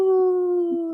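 A single sustained wolf howl holds a steady, clear pitch, loud and close, with nothing else around it.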